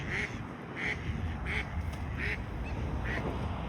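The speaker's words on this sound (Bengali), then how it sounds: "দেখেন কত সুন্দর একটা বালি হাঁস" A lesser whistling duck on a park lake gives a series of about five regularly spaced quacking calls over steady outdoor background noise, moderately close.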